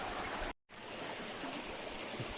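A river in Barangay Birimut, Samar, runs over yellow and red stones with a steady broadband rush and gurgle. The flow is continuous and fairly close, with one brief dropout near the start.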